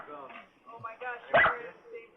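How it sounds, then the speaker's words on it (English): A dog barks in short bursts in a studio during a live radio talk show, one louder bark standing out near the end, with people talking over and around it. "The dog really needs to be quiet."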